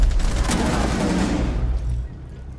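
Dense, continuous burst of gunfire in a video game, loud and rapid with overlapping shots, tapering off near the end.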